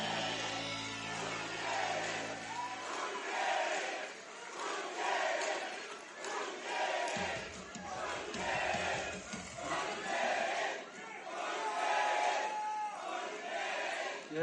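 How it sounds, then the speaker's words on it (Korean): A large rally crowd at a 2012 Democratic United Party presidential primary joint speech event in Gwangju roars and chants to welcome candidate Moon Jae-in, a loud, sustained swell of voices and cheering that rises and falls in waves. "뜨거운 박수로 맞이해 주시기 바랍니다"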